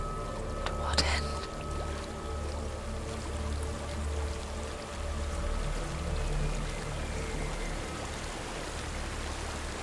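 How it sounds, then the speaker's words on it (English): Waterfall in the video game Hellblade: Senua's Sacrifice, a constant rushing wash of falling water heard close and steady, with faint murmuring voices beneath. "There's a waterfall."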